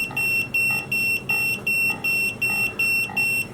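The ThermoPro TempSpike Plus meat thermometer alarm sounds while a tomahawk steak is cooked, a loud high-pitched electronic beep repeating steadily about twice per second over low background noise.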